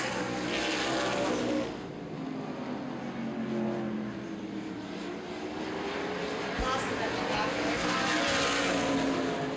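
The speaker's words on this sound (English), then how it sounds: "Now Gannis trying to work by Summers, had to get heavily out of the throttle" Race cars circle a short oval at Baer Field Speedway during a feature race, engines droning steadily and swelling as the field passes, with a race commentator talking over the continuous roar.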